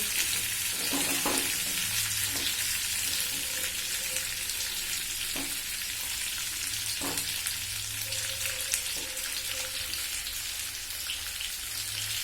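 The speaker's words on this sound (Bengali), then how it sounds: "একটু ভাজা ভাজা হলে মশলাটা দিয়ে জল দিয়ে দেবো।" Spice masala for potato curry (alur dum) frying in a pan, a continuous hissing sizzle like light rain with occasional stirring clicks and scrapes, steady and moderately close, no talking.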